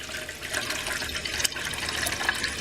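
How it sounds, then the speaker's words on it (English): Water poured from the spout of a coffee pot, a steady close splashing and trickling fill that runs the whole time at low volume, with no voices. "Got my coffee pot here, little spout on it. Put some water in her."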